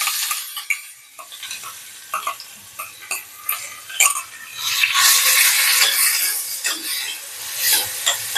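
Sliced onions and curry leaves fry in oil for a mutton liver fry, a steady close sizzle broken by repeated metal spoon scrapes and clicks against the pan.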